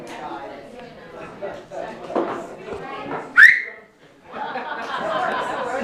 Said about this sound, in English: do the dad whistle